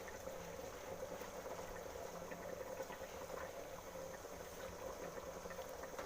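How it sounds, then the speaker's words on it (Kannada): Dried fish curry boiling in a pot gives a steady, even bubbling and simmering sound that carries on without a break, with no one talking. "ಇವಾಗ ಇದೊಂದು ಕುದಿ ಬರಲಿ. ಚೆನ್ನಾಗಿ ಕುದೀತಿದೆ."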